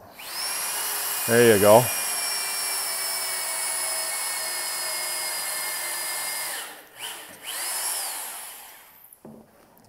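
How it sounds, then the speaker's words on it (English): A power drill bores holes into mushroom logs in a short burst of rising whine near the start, while a steady hum runs beneath and a voice speaks briefly. "doing the drilling here"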